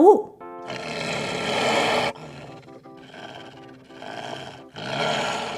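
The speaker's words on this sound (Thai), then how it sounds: "เจ้าสัตว์ร้ายส่งเสียงคำราม และพ่นลมใส่หน้าคนแคระ" A wild beast in a children's fairy tale lets out a loud, drawn-out roar in several heavy bursts, with short dips between them. The sound carries on its own, with no one talking over it.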